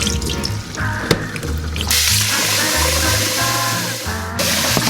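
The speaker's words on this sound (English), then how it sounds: "Drain out the first water," Rice-washing water pours and splashes steadily as it drains into a sink or bowl, a continuous close liquid rush with small drips and clinks.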